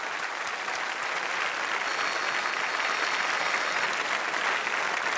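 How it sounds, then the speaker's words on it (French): Sustained applause from an audience at the Coupe du Monde de la Pâtisserie pastry competition, a broad even wash of clapping that stays steady and fairly loud for the whole stretch with no talk. "Allez, un gros effort d'applaudissement pour tous ces jeunes."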